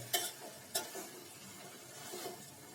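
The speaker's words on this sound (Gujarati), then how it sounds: "ચાલો આપણે હવે પૌવા પણ અંદર ઉમેરી દઈએ બરાબર" Poha (flattened rice) tipped into a pan and stirred for a potato poha dish: two sharp utensil clicks early on, then a quiet, continuous stirring rustle with a faint sizzle and no voices.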